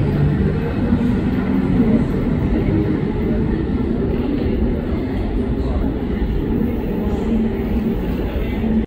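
A train rumbles past on the tracks at a railway station in Belgium, a loud continuous roar and rattle filling the whole stretch, close and steady.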